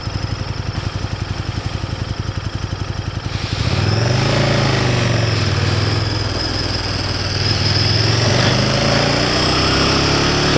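A large motorcycle engine rumbles at low speed with uneven, surging throttle, a steady near putter that jumps louder and rougher partway through and keeps revving unevenly.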